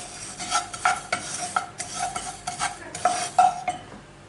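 Two to three tablespoons of sesame seeds being roasted in a pan, with a utensil scraping and stirring them in repeated bursts and light clinks against the metal, close up and moderately loud.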